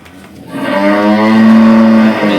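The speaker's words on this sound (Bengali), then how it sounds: "দেখছেন ষাঁড়টা খুব সুন্দর একটা ষাঁড়" A large, heavy bull weighing over 700 kg being raised for Qurbani gives a single loud, close moo that rises and holds steady before tapering off, with no talking.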